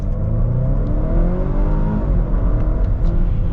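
A 2022 Volvo XC60 B6 R-Design accelerates at full throttle, its engine drone rising loud and steady in pitch from a sharp launch, with no talking.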